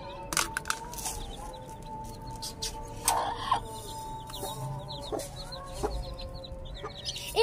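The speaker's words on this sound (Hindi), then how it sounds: "तो मुर्गी बैठ गई है, वो मुर्गी बैठ गई थी, और जिक्रिया भाई इनको दाना डालने वाला है" Hens cluck and a rooster calls close by as grain is scattered for them, with repeated short clucks, a few sharp louder calls and occasional faint cracks, and no talking.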